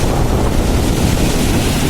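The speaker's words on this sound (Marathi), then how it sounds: "इकडे लाटा बघा लाटा आणि अशा खावलेल्या आहेत ना" Rough sea waves surge and crash continuously on Nandgaon beach on the Konkan coast, a loud broadband roar with strong wind buffeting the microphone throughout.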